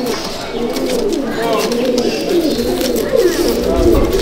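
Malbai (Panjabi) pigeons coo softly and continuously at close range in a loft, their rolling calls running through a man's speech.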